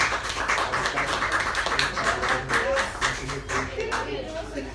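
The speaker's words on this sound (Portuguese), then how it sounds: "Todas as palmas para o nosso Senhor Jesus Cristo" A church congregation at an evening prayer service claps in praise of Jesus, brisk rhythmic clapping with voices and a low musical hum blended underneath.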